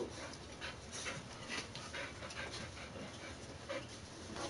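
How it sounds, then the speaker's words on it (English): Dogs pant steadily with rapid breathy huffs and occasional faint whimpers, close but low in level under a constant hiss of background noise. "Look at the dogs."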